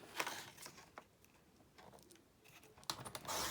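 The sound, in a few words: trimming paper for a mini album page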